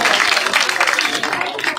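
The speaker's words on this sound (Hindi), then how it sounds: "जोरदार तालियों से अभिनंदन और स्वागत" Dense, loud applause from a crowd at a village political rally in Sheikhpura near Gannaur welcomes Devender Kadiyan, a continuous rapid patter of many hands, with some talk mixed in.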